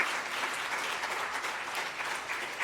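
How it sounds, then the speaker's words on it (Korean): A church congregation claps steadily after a closing prayer at Sunday worship, an even, continuous wash of applause from many hands without letup, no talking over it. "박수로 격려하겠습니다"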